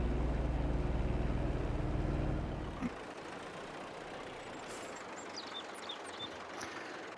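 Massey Ferguson tractor engine in Farming Simulator 22, a steady, fairly loud low rumble for about three seconds that then cuts away, leaving quiet ambience with a few faint clicks.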